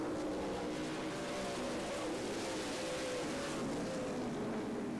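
Race cars circling Angola Motorsport Speedway during a 50-lap tune-up, their engines merging into a continuous loud, droning roar with a slowly shifting pitch and no break.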